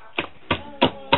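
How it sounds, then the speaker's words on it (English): Puff puff batter beaten by hand gives four evenly spaced soft slaps, close and fairly quiet, in a steady rhythm. "you beat it well"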